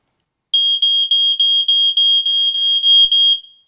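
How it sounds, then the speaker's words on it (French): A Livebox smoke detector sounds its test alarm: a loud, shrill series of about ten rapid electronic beeps in a steady pulsing rhythm, close by, with no talk, ending with a brief click and fading tone. "Le détecteur de fumée Livebox est doté d'un dispositif de test."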